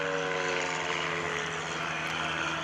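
Extreme Decathlon aerobatic airplane flying past at an airshow, a loud, steady propeller engine drone with strong harmonic whine that holds throughout at close range.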